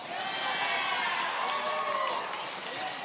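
A crowd cheers and screams at a VEX V5 robotics middle school state championship finals, a loud, dense, sustained roar of many voices filling the whole moment.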